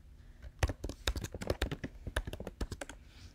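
Rapid, uneven clicking of keys on a computer keyboard, close and crisp, a quick burst of typing with irregular rhythm and no talking.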